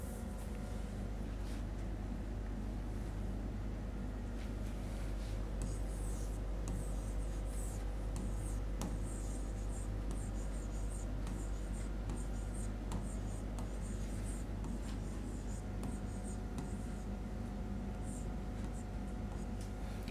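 Marker or chalk scratches continuously across a board in white, making a steady scraping, squeaky texture that runs for the whole stretch at close range.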